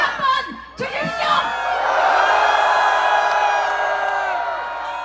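A crowd at a presidential election rally at Seoul Station roars and whoops, with scattered shouts building into sustained, loud cheering that carries on to the end.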